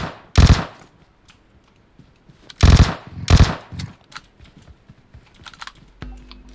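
Gunfire in the battle royale game PUBG Mobile: loud close bursts of automatic shots near the start and around the three-second mark, with quieter distant shots in between and no speech.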